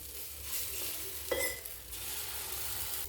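Green moong dal and egg chilla batter sizzling in a hot pan as a spatula spreads it, a steady frying hiss with one brief scrape of the utensil midway.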